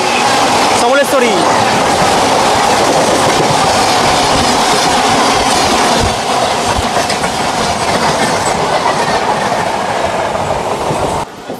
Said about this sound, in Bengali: সামনে দিয়ে চলে আসছে ট্রেন নাম্বার 18006 জগদলপুর থেকে হাওড়া সমলেশ্বরী এক্সপ্রেস